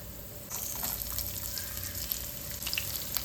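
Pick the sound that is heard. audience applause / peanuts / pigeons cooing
peanuts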